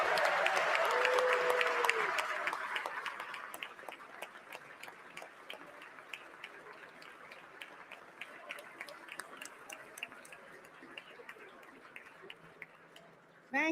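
An indoor audience at a state address applauds to welcome visiting city mayors. The clapping is dense and loud at first, then thins to scattered claps before it fades out.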